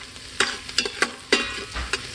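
Onions salted and frying in an Instant Pot sizzle softly while a utensil stirs them, giving several distinct scraping knocks against the pot at uneven intervals, close and clear with no talking.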